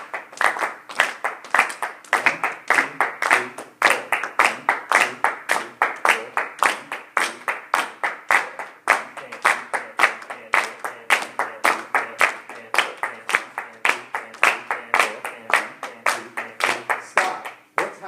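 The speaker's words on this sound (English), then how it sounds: "the whole class is going to clap 1, 2, 3, and 4" A whole class of students claps together in a steady four-beat rhythm, dozens of sharp, evenly spaced claps continuing without pause and with no talking over them.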